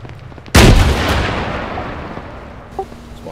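A missile strikes and destroys a vehicle in the Arma 3 combat game: one sudden loud blast followed by a long rumbling, crackling decay, with no voices.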